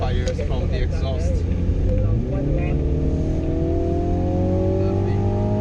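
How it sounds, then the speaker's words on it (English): A 2017 MINI Countryman JCW drives under steady, loud engine drone with a rising rev, while a voice talks over it; the exhaust backfires cannot be picked out distinctly. "And of course, the backfires from the exhaust."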